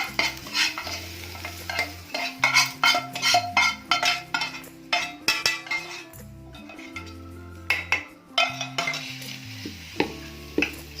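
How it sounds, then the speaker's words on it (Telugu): A spoon stirs and mixes gunta ponganalu (masala paniyaram) batter in a bowl, giving repeated scraping, clinking strokes close up, steady and rhythmic with no talking. "బాగా కలుపుకోవాలండి, పిండిలో బాగా కలిసిపోవాలా"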